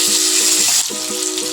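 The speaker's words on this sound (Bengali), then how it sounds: "আলুটা ভাজা ভাজা হয়ে গেলে এর মধ্যে আমি টমেটো টুকরোগুলো দিয়ে দেব" Potato pieces fry in a pan with a loud, close, continuous sizzle that shifts and dips briefly when tomato pieces are tossed in, with no talking.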